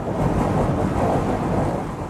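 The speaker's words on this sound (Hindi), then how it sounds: "ये हवाएं अपने साथ रेगिस्तान की रेत को उड़ा रही है। जल्द ही ये हवाएं तूफान में बदलने वाली हैं।" Strong desert winds whipping sand through the air as they build toward a storm, heard as a loud, continuous rushing roar that swells and eases slightly, with no voices.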